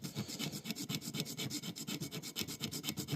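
A file rasps back and forth over a sanding block in quick, even strokes during guitar nut repair, a close scratchy rubbing rhythm repeating steadily with no voices.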